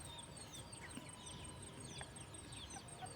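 Free-range jungle chickens foraging outdoors, soft scattered clucks and calls at a distance over a steady bed of insect buzz.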